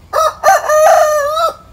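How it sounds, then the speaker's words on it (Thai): A rooster crows from high up on top of a mango tree in the early morning, a single loud, close call with a stuttering start followed by a long sustained note, alone with no talking. "ผมมาแอบดูนกแบบดูไก่ขันอยู่บนยอดต้นมะม่วงครับ"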